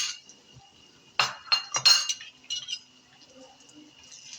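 A metal spoon clinks against a cooking pot while turmeric and coriander-cumin powder are stirred in: a few sharp, bright taps clustered together, then softer scrapes, close and distinct in an otherwise quiet kitchen.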